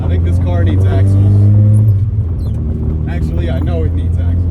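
A Mazda Miata drift car on worn replacement wheels, in need of axles, drones steadily while driving on a city street, its engine note loud and close, rising and falling, with a person talking over it throughout.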